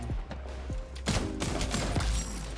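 Gunfire from an MK 20 SSR rifle in a first-person shooter video game: a few sharp, loud shots in quick succession over dense game noise, with a burst of heavier firing near the middle.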